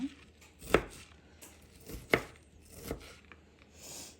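Broccoli is chopped on a board with a freshly sharpened knife: three crisp, separate thuds a second or so apart, close and clear against a quiet kitchen, with no talking.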